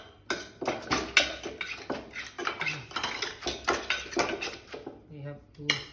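Green papaya salad pounded in a mortar, a steady rhythm of knocking, clattering thumps close by, with someone talking over the pounding.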